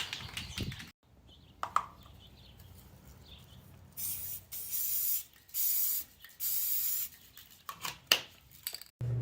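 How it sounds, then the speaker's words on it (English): Aerosol glow-in-the-dark spray paint hisses in several separate bursts of a second or two onto a CNC-carved sign, with pauses and faint rattles between the passes. "Let's go hit it with some spray paint."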